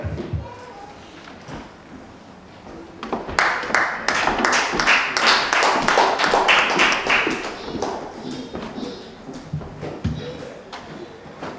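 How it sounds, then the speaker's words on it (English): A church congregation claps during a thanksgiving and dedication service, a dense sustained burst of many hands that swells loud and steady for several seconds before thinning out, with faint voices underneath. "If that clap is for Jesus"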